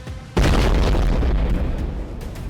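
A sudden loud car bomb explosion near the Red Fort in New Delhi booms after a short quiet moment, then a long rumbling roar slowly fades.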